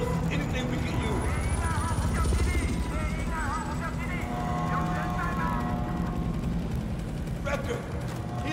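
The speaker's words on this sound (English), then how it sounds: "Wrecker, Helos above." Helicopters thrum overhead in the video game Battlefield 4, a continuous low rotor rumble beneath game voices and mechanical clatter.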